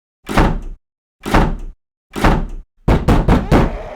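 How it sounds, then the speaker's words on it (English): Heavy bodily impacts on a steel door: three separate loud thuds followed by a rapid flurry of four more blows, close and booming with deep low-end weight. "The thing throws itself against the steel door."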